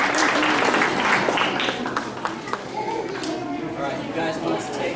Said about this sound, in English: let's give a big round of applause to these 9 Cub Scouts who are on their Arrow of Light